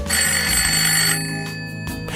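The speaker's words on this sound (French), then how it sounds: "Le téléphone sonne" An old-style telephone bell rings continuously and loudly, its metallic tone sustained and then briefly pausing before starting again, with no voices.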